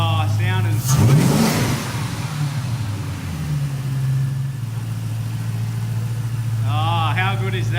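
A Ford 5.4L Boss 260 V8 swapped into an AU XR6 Falcon runs close by, one strong rev blipping up and settling into a steady, deep idle, with a voice speaking over it at the start and end.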